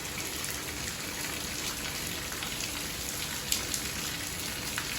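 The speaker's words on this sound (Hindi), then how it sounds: "कितनी तेज बारिश आ गई, दिखाऊं देखो कितनी तेज बारिश आ है।" Heavy rain pouring down outdoors, a dense, steady hiss of drops striking surfaces, loud and unbroken, with an occasional sharper splash or drip standing out near the end.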